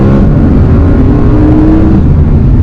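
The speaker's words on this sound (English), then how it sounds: "it's got this screaming engine behind you and it's all drama." Audi R8 (2019) engine screaming behind the cabin while driving, a loud, steady, continuous roar with no talk over it.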